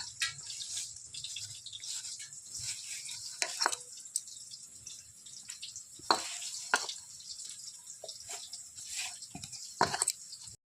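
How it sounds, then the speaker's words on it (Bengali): Potatoes with spices are stir-fried in a pan, soft sizzling under intermittent scraping and stirring strokes, with sharper clatters of the utensil against the pan every second or two. "এবার মশলা দেওয়ার পরে এবার আমি সুন্দর করে কষিয়ে নিচ্ছি"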